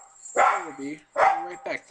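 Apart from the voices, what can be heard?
dog barking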